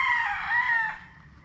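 A rooster crows once among bred gamefowl at a breeder's farm, a single clear drawn-out call heard fairly close and alone.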